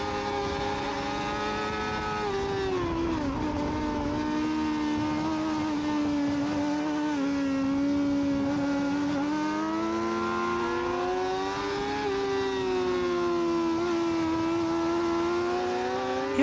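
A Yamaha R6 race motorcycle at full effort during an amateur open sprint race lap, its engine a loud, sustained tonal whine rising and falling with gear changes and throttle, heard up close from onboard without a break.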